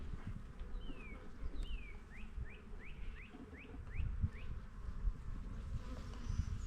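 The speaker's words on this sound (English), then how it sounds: "There's a lot more bees in here than what there was." Honeybees drone steadily in an opened hive during a spring inspection, a dense close buzz that runs throughout, with a few thin bird chirps above it.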